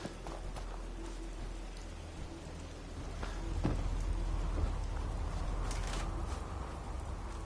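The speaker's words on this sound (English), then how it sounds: "Damn rain." Steady rain patters on surfaces in the video game Fallout 4, a dense continuous hiss that swells slightly halfway through, with scattered louder drops and no voices.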